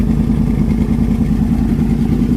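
A 2014 Yamaha R1 sportbike fitted with a Toce exhaust runs loud and close, a throbbing low engine note holding steady with a slight rev swell, no voices.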